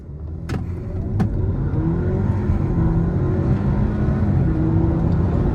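A 2022 Audi A4 Prestige 45 TFSI S-Line accelerates hard from a stop toward 60 mph, heard from the cabin as a steady, rising engine drone with road rush. Two sharp clicks come early, and no one speaks.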